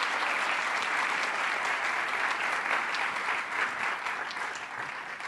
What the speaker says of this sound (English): Another round of applause for Marwa